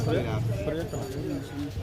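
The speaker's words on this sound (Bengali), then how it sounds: "এই দেখুন এটা মাদা পায়রা আছে" Domestic pigeons coo in low, throaty repeated calls close by at a bird market in summer, with voices talking over and between the calls.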